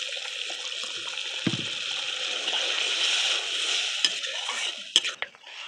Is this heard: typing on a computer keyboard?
no